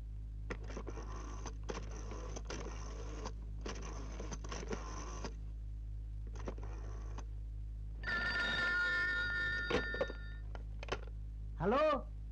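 An old telephone bell rings in repeated bursts with short gaps between them, followed by clattering noises and a brief rising tone near the end, in an Indonesian comedy film.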